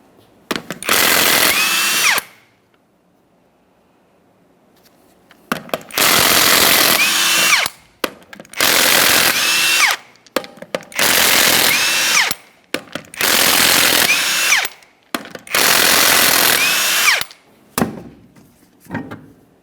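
An impact wrench spins six 21mm lug nuts off the rear wheel of a 2004-2008 Ford F-150, loud close bursts of whirring and rattling hammering separated by short pauses, one longer quiet gap early on.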